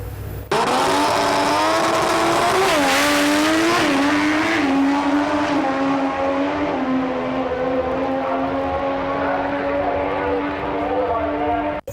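HKS Nissan Skyline R33 GT-R making a seven-second drag racing pass, a loud, close engine howl climbing through the gears with rising and falling pitch before settling into a sustained high drone.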